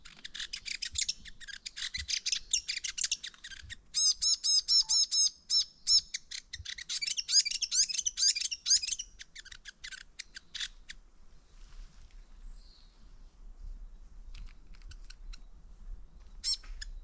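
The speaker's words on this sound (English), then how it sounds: "I'm just playing with the fantails." Fantails chirp in quick, bright, repeated calls at close range along a walking track near Okiato and Russell, with bursts of twittering song that thin out into quieter rustling and faint footsteps toward the end.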